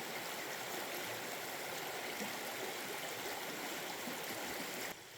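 A stream in Alaska flows steadily beside a streamside campsite at night, a continuous close rushing and gurgling of water with no pauses, holding even in level until a slight drop at the very end.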